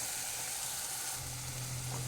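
A ground masala paste of coconut, pepper powder, garam masala and turmeric fries in oil while being stirred, giving a steady close sizzle and hiss. Soft scraping stir sounds come through near the end.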